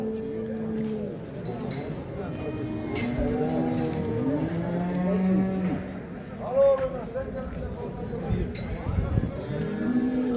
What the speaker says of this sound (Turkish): İnek boylu boslu bir inek.